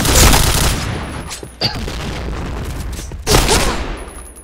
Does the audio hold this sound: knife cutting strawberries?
no